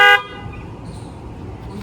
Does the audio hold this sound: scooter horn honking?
yes